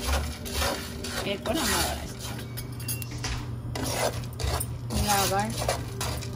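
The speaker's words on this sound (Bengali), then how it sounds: "অনবরত আমরা এগুলোকে নাড়তে থাকবো" Koroi being fried and stirred in a pan: a spatula repeatedly scrapes and rubs against the metal in an uneven rhythm, close up, while a person talks over it.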